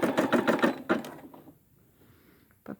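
A Brother SE600 embroidery machine stitches a quilt in a quick burst of rapid mechanical needle clatter that stops after about a second, followed by near silence and a faint click at the end.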